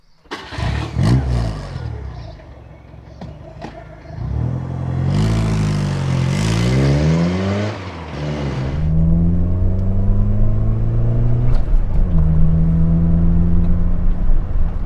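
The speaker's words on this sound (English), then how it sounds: "let's hear what this exhaust actually sounds like" Austin Metro with a Maniflow exhaust starting up and revving, sharp throttle blips and swelling engine notes followed by a long steady raised idle, close and loud without talk.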